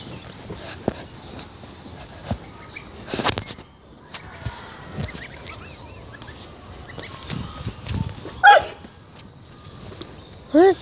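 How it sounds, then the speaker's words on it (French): A dog barks in an odd, strained way in a farmyard with Normandy goslings nearby, giving a few scattered yelps and whimpering barks, the louder ones near the end, amid soft rustling and occasional bird sounds. "c'était mon chien qui aboyait bizarrement."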